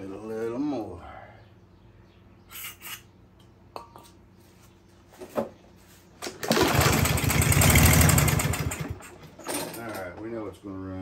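A Briggs and Stratton engine on a Murray mower with a no-start condition: low mechanical ticking and a voice, then the engine catches and roars loudly for about three seconds before dying back, with brief sputters afterward.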